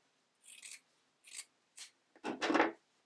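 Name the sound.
scissors trimming bra foam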